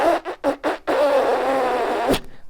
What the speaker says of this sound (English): they create a buzzing sound with their mouthpiece